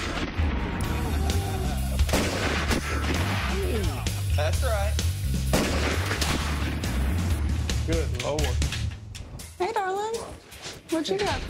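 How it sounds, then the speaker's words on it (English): A Desert Eagle handgun fired in a series of loud, sharp booming shots at an outdoor shooting range, the blasts standing out over steady background noise and people talking throughout. "at least the guys brought along a Desert Eagle"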